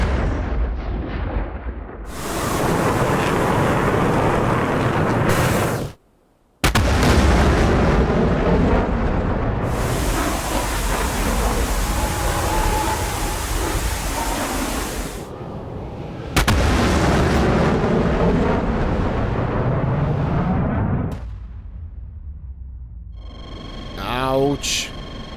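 A missile strikes a fighter jet in DCS World, in an F-16 Viper against Su-35 Flanker fight, heard as a loud sustained roar and rumble with a brief cutout, then a fading hum and warning tones at the end.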